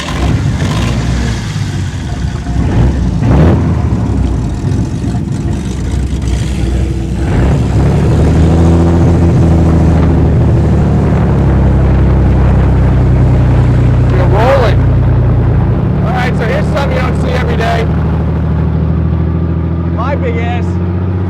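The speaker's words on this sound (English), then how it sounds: "driving a 1931 Ford tractor" A 1931 Ford tractor being driven: loud, steady low engine drone that rises and settles as it runs, with voices talking over it and brief clatter toward the end.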